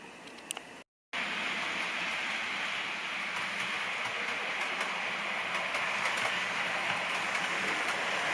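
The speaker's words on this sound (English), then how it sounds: "I'm going to pull up the breakdown train next to it" A steady, hissing rumble of a Hornby model train with a breakdown coach running along a track continues without a break after a brief silence at the start.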